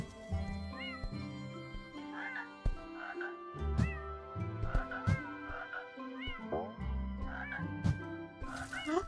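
A cat meows repeatedly in the platformer Go Up Frog, its calls rising and falling in short bursts over soft game music and thuds, with someone talking intermittently.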